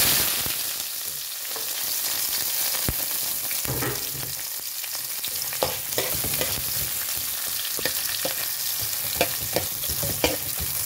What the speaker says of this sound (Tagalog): Ilunod ang konting mantika. Init na, isunod din ang mga lamas.